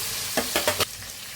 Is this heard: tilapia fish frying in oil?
yes